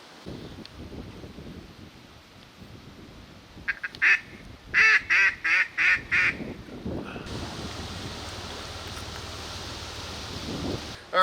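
Mallard ducks quack in a rapid series of about six loud, close calls at a windy Kansas farm pond, heard over steady wind rush and rustling, with no talking during the calls.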